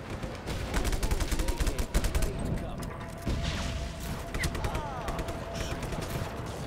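Bursts of video-game gunfire from Just Cause 3 crackle in rapid, dense volleys for the whole stretch, staying loud and close with a voice mixed in.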